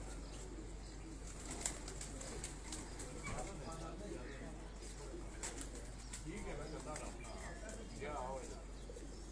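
Pigeons kept at a house coop in Lahore cooing softly in repeated low, throaty phrases, faint and steady against quiet surroundings, with someone talking at times.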